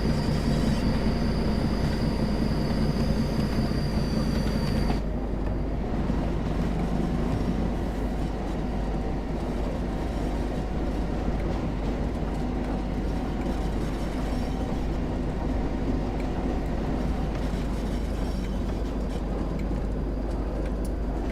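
A diesel locomotive in Train Sim World 2 rolls along with a continuous low rumble and rail noise, and a high whine that cuts off abruptly early on, leaving a steady, moderately quiet drone.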